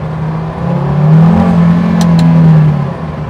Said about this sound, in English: You got the engine right behind you